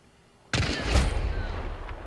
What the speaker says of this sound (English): Three of them, and they're shooting each other.